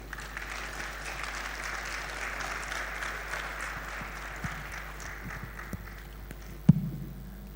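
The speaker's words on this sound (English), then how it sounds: "Let's appreciate him with another hand of applause for his address" Audience applause at a university graduation congregation, a soft, distant wash of many hands clapping under a low hum, ending with a sharp knock near the close.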